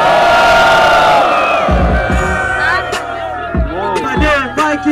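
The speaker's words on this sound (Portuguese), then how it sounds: "Quem quer ver o terceiro round, faz barulho aí?" A loud crowd at a Brazilian rap battle semifinal cheers, whoops and shouts in a sustained roar, with rising yells and bursts of voices swelling over the din.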